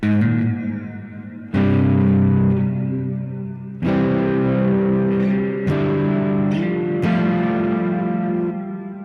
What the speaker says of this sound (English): so now the reverb is going into the distortion.